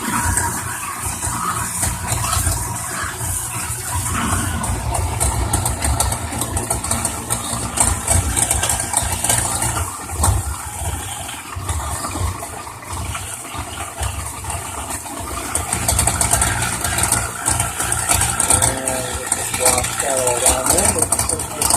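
A steady motorized grinding hum runs throughout, loud and continuous with slight surges, as an InSinkErator garbage disposal chews through old bananas and carrots with water running.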